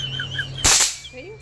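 A single sharp firecracker bang bursts out close and loud, then decays briefly, with faint birdsong and background hum around it.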